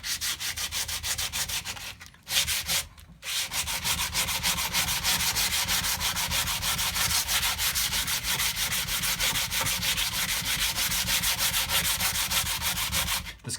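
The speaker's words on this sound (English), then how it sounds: "I just get a regular flat piece of wood and fold some sandpaper around it." Sandpaper folded around a flat wood block rubs back and forth along a wooden guitar neck, a steady, close, rasping scrape that runs on with two short pauses and no talking.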